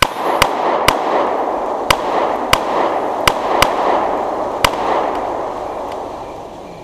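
Sharp, sporadic gunshots crack and pop over a dense crackling roar, irregularly spaced like firecrackers going off nearby.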